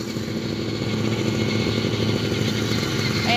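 A motorbike rides over red sand dunes at Unaizah, Saudi Arabia, its engine droning steadily and fairly close throughout the short stretch.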